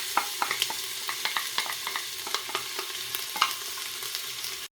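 Onion drops into a pot of regular oil mixed with olive oil and fries with a close, lively sizzle, punctuated by frequent crisp pops and stirring clicks.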